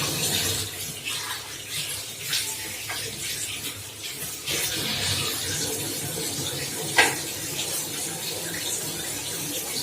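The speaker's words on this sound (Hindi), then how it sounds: "साथ ही मैं इसमें हाथ भी धो लेती हूँ।" Hands being washed under a running tap at a kitchen sink, with a steady rush of water and splashing that carries on throughout, plus a small clatter near the end.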